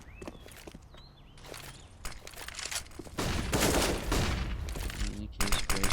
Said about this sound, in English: AK sprays coming out here.